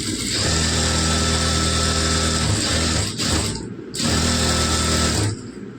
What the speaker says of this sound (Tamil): லைனிங் கிளாத் போட்டு அப்படியே ஸ்டிச் பண்ணிக்கலாம்.